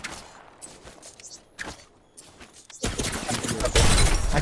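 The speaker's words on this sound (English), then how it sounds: "Why'd I shoot my gun for no reason?" Gunfire in the video game Apex Legends, with a few sharp shots followed by a dense, loud burst of rapid fire that builds toward the end.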